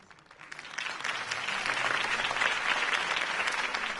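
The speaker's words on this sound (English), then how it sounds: "If only Mr. Wayne, my campaign's largest backer, could have heard that applause" A crowd applauds in a PS4 video game, dense clapping that swells from quiet to a steady, sustained ovation without talking.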